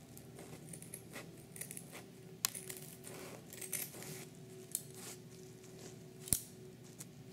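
Scissors snipping a small rectangle for a fingernail, light crisp cuts at irregular moments against a quiet room background, with a couple of sharper clicks.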